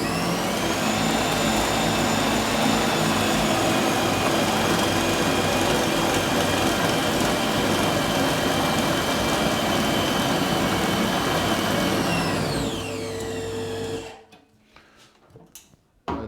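An industrial meat chopper runs at high speed, mixing meat with ice for bologna, giving a loud, steady whirring roar that holds for about thirteen seconds, then winds down and stops, leaving near silence with faint clatter.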